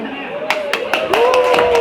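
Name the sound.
audience applauding a donation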